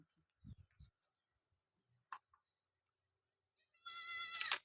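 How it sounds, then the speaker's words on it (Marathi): A large goat bleats once near the end, a short, loud, quavering cry after a few faint bumps and a brief knock in otherwise quiet surroundings. "खाली घातली लई मोठी शेळी देते तोंडाला हातात लावू देत नाही."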